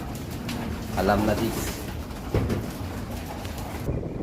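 Pigeons coo softly in a backyard loft while someone talks over them throughout, the bird calls low and mostly masked by his voice.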